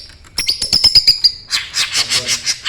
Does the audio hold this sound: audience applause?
no